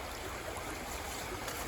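A river flows strongly after rain at a gold-panning site, a dense, steady broadband rush of water, close and continuous with no talk.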